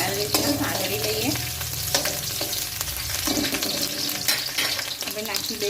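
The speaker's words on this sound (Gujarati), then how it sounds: "લીલા મરચાં નાખી દીધા છે અને આને આપણે સારી રીતના સાંતળી લઈએ" Chopped green chillies sauté in hot oil for Schezwan fried rice, giving a loud, dense sizzle close up, broken by repeated clinks and scrapes of a spatula stirring in the pan. No one speaks.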